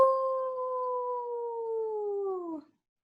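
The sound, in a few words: storyteller imitating a wolf howling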